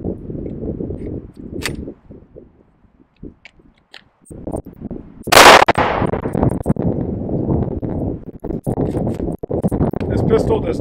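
Pistol firing hollow point rounds, a single sharp report that stands out amid speech and handling noise, close by and loud, with people talking around it.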